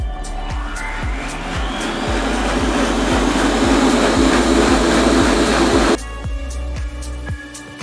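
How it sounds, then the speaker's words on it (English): A blender whirs loudly and steadily for about six seconds while blending carrot, ginger and apple juice, then cuts out abruptly, leaving a quieter hum. "we're going to now blend it for 1 minute"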